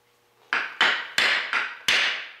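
A hammer taps gasket material against a part to cut out a gasket. Five sharp, close knocks come at a slightly uneven pace, each ringing briefly before it fades.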